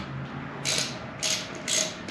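A ratchet tightens bolts on a 2021 Honda Trail 125 rear rack, three short rasping clicks spaced about half a second apart, close and clear with no talk.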